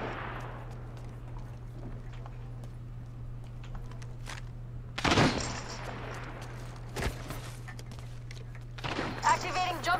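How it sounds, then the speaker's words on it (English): Spaceship weapons firing at an enemy in a video game: a few sharp laser-like bursts, one at about the midpoint and another shortly after, rise above a steady engine hum, with a rapid crackling volley at the end while a voice speaks over it. "Enemy shield broken. Firing."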